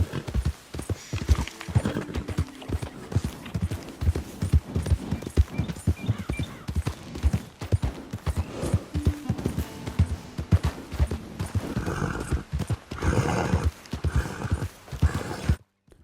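A horse's hooves pound in a quick, steady gallop throughout, close and continuous, with an occasional snort, in a video game.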